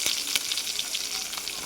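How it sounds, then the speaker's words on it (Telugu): Onions fry in a hot pan with curry leaves in a home kitchen, giving a steady close crackling sizzle with small pops throughout. "అందులోకి పక్కన కూడా ఆనియన్స్ అయితే వేగుతున్నాయి."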